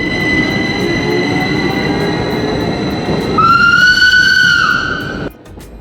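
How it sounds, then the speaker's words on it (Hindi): Swiss Bernina Express train running along a road near Tirano, a steady loud rumble of wheels with a high sustained wheel squeal that rises in pitch, then drops away near the end. "यहाँ ट्रेन लिटरली रोड के ऊपर से जा रही है, बिल्कुल ट्राम की तरह।"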